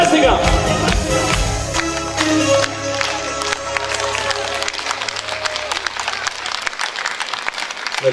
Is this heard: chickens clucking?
no